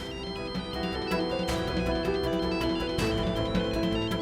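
A phone ringtone plays loudly and repeatedly, a bright electronic melody with a regular pulsing rhythm and no voices.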